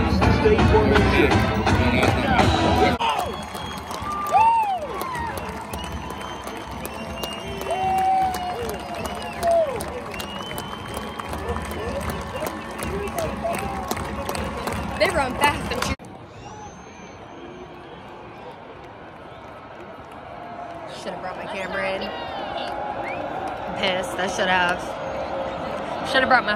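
A stadium crowd at a WVU football game roars and claps as the marching band moves into formation. The loud cheering fades to a quieter crowd murmur with nearby talk and scattered claps.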